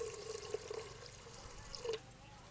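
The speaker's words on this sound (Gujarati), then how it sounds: "પહેલાં આપણે પાણી નાખી દઈશું એમાં" Water is poured into a pot of boiled lentils, a soft, brief trickle and splash that stays faint and close, with no talk.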